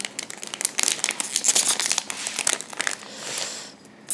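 Crinkly plastic wrapper of a Japanese Pokémon card booster pack being worked open by hand, with steady close crumpling and crisp crackles and a few short tearing pulls over about four seconds, no talking.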